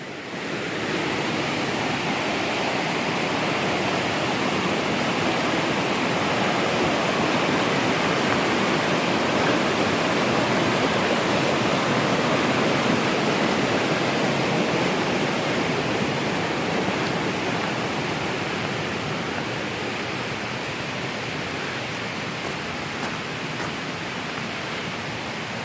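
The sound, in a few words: rushing stream water in Smokemont, GSMNP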